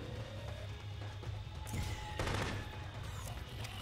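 Enemy gunfire from The Conduit sounds as a steady, fairly quiet rattle of shots under constant game noise, with a louder crashing burst partway through.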